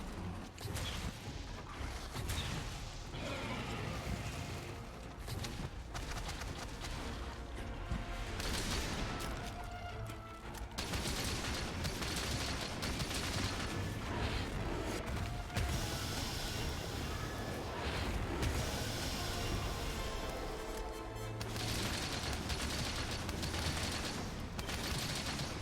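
Explosions and heavy impacts from a monster battle in Monster Hunter Rise: Sunbreak form a dense, loud, continuous barrage of crashes and bursts with no pauses, layered over game music and effects.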